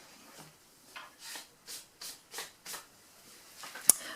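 A cloth wiped in short, even strokes across a paper craft tag to remove ink, about half a dozen soft brushing swipes, close and quiet, ending in a small sharp tap.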